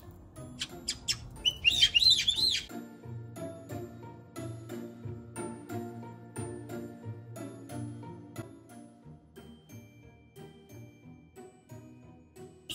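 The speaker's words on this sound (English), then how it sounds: "And let's see what Victoria Cockatoo thinks about it." A cockatoo and a caique parrot give a burst of shrill, squawky chirps and whistles, close and fairly loud, over the first couple of seconds, then fall quiet while soft tinkling tones continue.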